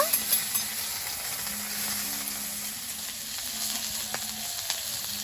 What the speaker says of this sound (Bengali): কড়াইতে তেল দিয়ে দেব বিন কড়াই আর গাজরটা শক্ত সবজি তো ওইগুলো আগে একটু ভেজে নেব